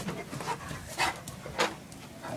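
A female dog whimpers to be let out, making a few short, soft whines and snuffles close by in a quiet room.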